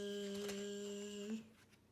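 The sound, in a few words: lawnmower steady zooming noise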